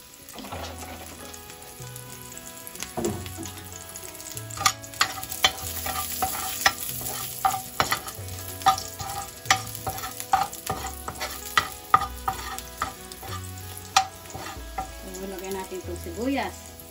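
Oil sizzles steadily as zucchini is sautéed and stirred in a pan, with repeated utensil clinks and scrapes over a continuous frying hiss and a low hum in the background.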